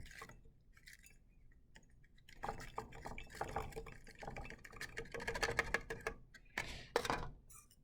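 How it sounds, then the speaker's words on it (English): Baking soda poured into a glass Erlenmeyer flask, a quiet gritty patter and clinking of powder and grains against glass, building in the middle and ending in a few louder bursts, with no talk. "Now we're going to take the rest of the baking soda and pour it into the Erlenmeyer flask as well."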